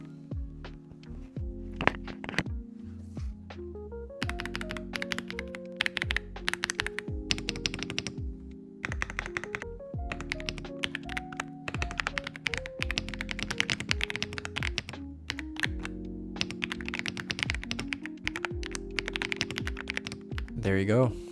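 An AULA F99 mechanical keyboard is typed on continuously, a dense close clatter of keystrokes with deeper thocks, heard over background music.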